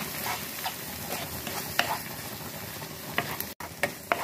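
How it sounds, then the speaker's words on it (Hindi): Red chili, turmeric and coriander powders fry in oil for a green pea curry, a steady close sizzle with intermittent scraping stirs of a spoon against the pan. "इसे हमें अच्छे से भून लेना है 3 से 4 मिनट तक, जब तक कि मसाले में से ऑयल सेपरेट ना हो जाए"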